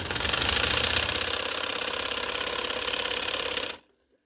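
A sewing machine stitching a wide lawn fabric palazzo runs at a fast, steady whirring clatter for several seconds close by, then stops abruptly into silence.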